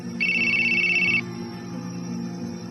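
A phone gives a single loud, clear electronic ring lasting about a second against a steady low background hum.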